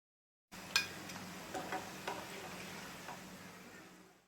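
Egg biscuits frying until golden in hot oil, a faint steady sizzle that starts abruptly and fades at the end, with a few light ticks and taps of a utensil and no voices.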